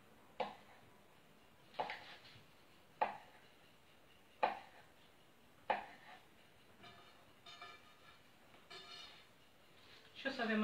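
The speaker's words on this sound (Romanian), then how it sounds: "Și cu un cuțitaș o să tăiem." Small knife slicing through chocolate biscuit dough on a board, giving about six sharp, evenly spaced cuts with quiet handling noises in between, ending with busier scraping.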